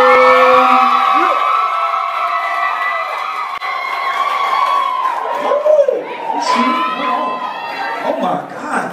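A live stage-show audience, the crowd at an Oscars 2017 reaction event, screams and cheers loudly in a continuous roar with whoops and shouts, close and dense throughout, with voices mixed in.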